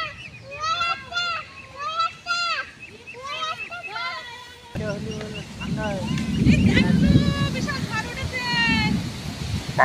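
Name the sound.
ducks quacking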